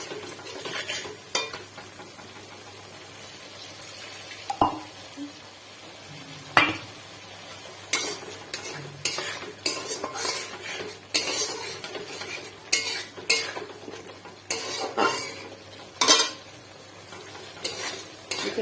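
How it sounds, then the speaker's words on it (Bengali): A utensil stirs and scrapes spice paste frying in oil in a pan for a pond-fish tel jhal curry, with close, irregular strokes that cluster into busy runs over a soft sizzle. "একটু নেড়ে চেড়ে নেবো যাতে না লেগে যায়"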